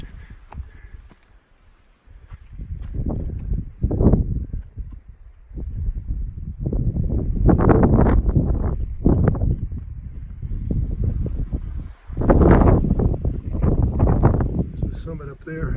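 Wind gusts buffet the microphone on an open mountain summit above the tree line in New Hampshire, loud low rumbling blasts coming in waves with brief lulls between them.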